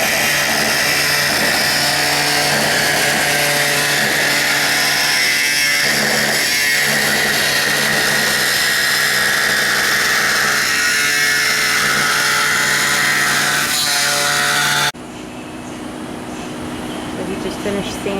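A power tool sanding the edge of a motion window during a custom coach installation, a loud continuous whirring grind that holds steady before cutting off abruptly near the end, leaving quieter background noise.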